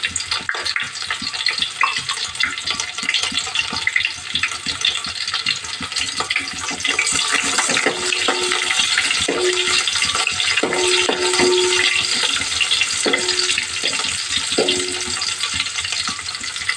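Chopped onions frying in hot oil in a pan while cooking a fish curry, a steady loud sizzle with occasional stirring clinks, no voices.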